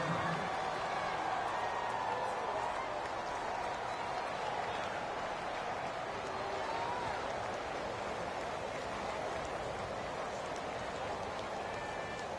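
Stadium crowd cheering in an NFL video game broadcast of a 49ers versus Rams matchup: a dense, continuous roar of distant fans, steady and fairly faint, with no voices standing out.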